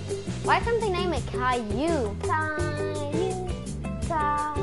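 A robot cat in a video game meowing repeatedly with rising and falling tonal cries, mixed with a person talking.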